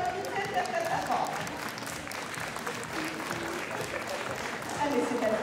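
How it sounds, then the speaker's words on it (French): Audience clapping at a cosplay parade, continuous crowd applause with scattered voices and cheers mixed in, rising slightly at the end. "Allez, on applaudit très très très très fort."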